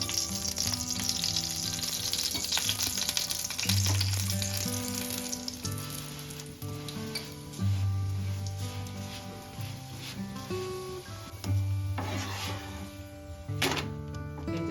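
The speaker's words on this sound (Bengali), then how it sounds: "আমি এখন একটু তেল দিয়ে দেব দু চামচ" Oil sizzling steadily under a paratha frying in a pan for an egg chicken roll, a constant crackling hiss throughout with occasional scraping clinks of a spatula and a faint hum in the background.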